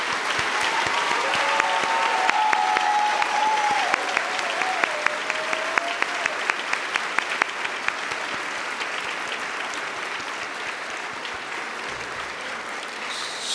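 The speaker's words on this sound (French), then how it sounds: "Mesdames et messieurs, je vous applaudis." An audience at a university science faculty graduation ceremony applauds loudly and without pause, a dense, sustained clapping that fills the hall from start to finish, with a faint tone drifting underneath early on.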